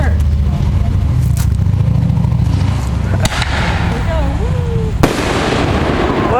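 Fireworks go off at a family backyard show: sharp bursts and crackles over a continuous low rumble, with a few distinct pops standing out. Voices talk nearby.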